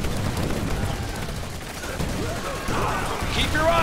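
Unit gunfire in the real-time strategy game Command & Conquer 3: Tiberium Wars: a dense, continuous crackle of massed small-arms fire and battle noise, steady and fairly loud, with a brief unit voice near the end.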